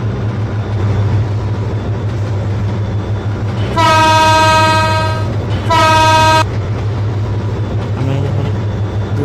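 Barendra Express passenger train on the Rajshahi to Chilahati line rumbles along steadily with close rail clatter, broken by two long, loud horn blasts in the middle.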